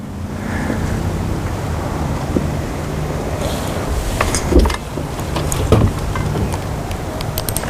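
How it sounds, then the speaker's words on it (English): Strong wind buffets the microphone in continuous gusts by choppy water, with water splashing nearby and a few brief knocks and bumps. "it's pretty windy out here"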